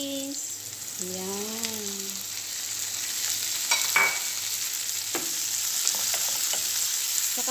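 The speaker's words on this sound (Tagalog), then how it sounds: "ilagay na natin ang kamatis" Tomatoes dropped into a frying pan, hissing with a steady sizzle and some stirring scrapes, and a short spoken word comes through over the frying.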